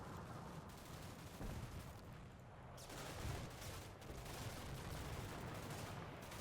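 An artillery barrage in Combat Mission: Cold War, a dense continuous rumble of overlapping distant blasts and crackling fire, swelling and easing in waves without a pause.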